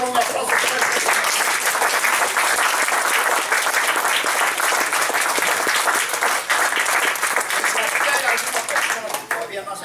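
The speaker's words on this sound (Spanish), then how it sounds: "Vamos a dar un aplauso." Sustained applause from a church congregation fills the space with dense, steady clapping at full volume for nearly ten seconds, tapering slightly at the very end, with scattered voices mixed in.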